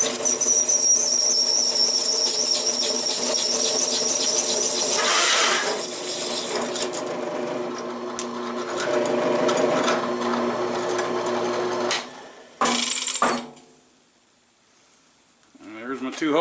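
A drill bit turning at 200 RPM bores through a steel mower blade, making a steady, close, high-pitched grinding squeal that runs for about twelve seconds, then cuts off into near quiet.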